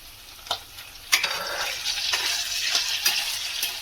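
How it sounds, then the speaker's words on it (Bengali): Capsicum, onion and chilli sizzle steadily in hot oil for Indo-Chinese chilli fish, a dense close frying hiss broken by a few sharp clacks of a spatula stirring the pan. "তেলের মধ্যে আমি যে ক্যাপসিকাম, পেঁয়াজ আর লঙ্কা দিয়েছিলাম সেটা ভাজা হয়ে গেছে"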